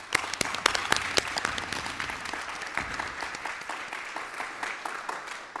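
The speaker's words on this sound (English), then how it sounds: "can we give them a round of applause?" An audience at a university event applauds its speakers, with dense, lively clapping and sharp individual claps standing out near the listener, holding steady for the full stretch.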